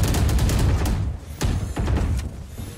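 Close gunshots crack in a Valorant match, a burst of several rapid shots followed by a couple of separate sharp reports, with no voices over them.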